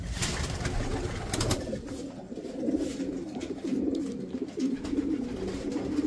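Racing pigeons at a loft coo in low, repeated murmuring phrases that run steadily throughout, with a few brief higher bird sounds early on, in an outdoor loft setting.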